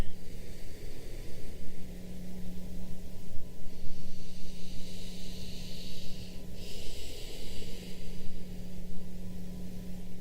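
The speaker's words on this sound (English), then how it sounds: "concentrate on deep breathing" Slow, deep breathing during a yoga stretch, close and airy, with long drawn inhales and exhales over a low steady hum, no one speaking.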